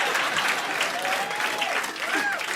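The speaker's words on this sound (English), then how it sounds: "clap for my father" Steady audience applause fills a comedy club after a stand-up comedian introduces his father, dense and continuous throughout with faint voices mixed into the clapping.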